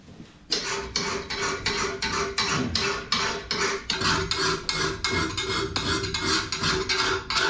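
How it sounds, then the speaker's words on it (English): A blade being finished off with a hand file after sharpening on a sandpaper disc: a rhythmic series of rasping strokes, about two per second, loud and close with no speech. "when I'm sharpening any blade, I always finish it off with a file"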